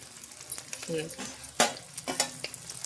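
Onions, green chillies and curry leaves frying in a pan for a crispy meal maker fry, with stirring scrapes and spoon knocks over a steady close sizzle; brief bursts of talk come and go.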